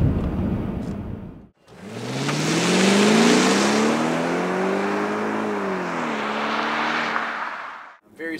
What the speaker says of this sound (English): Very subdued experience driving this car.